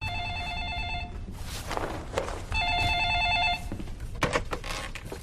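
An old-style telephone bell rings in a film scene, two bursts of loud repeated ringing separated by a pause filled with shuffling and movement.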